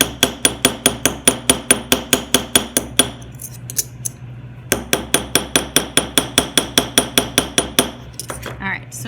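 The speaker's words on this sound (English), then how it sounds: "Now I can also flip to the other side to start hammering a little bit more." Steady, rapid metal hammer strikes on a jewelry rivet ring out close by, two runs of evenly spaced taps separated by a brief pause, bright and clinking.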